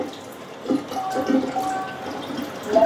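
Tap water runs into a countertop water ionizer, the AquaVolta Cavendish 9, producing a soft splashing and trickling flow with faint tonal gurgles, fairly close and quiet, with no speech.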